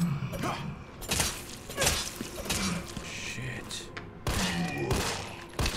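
Gunfire in the Resident Evil 3 Remake video game at the Raccoon City Police Station, a run of loud close shots and bursts with clanking mechanisms between them, a voice speaking over part of it.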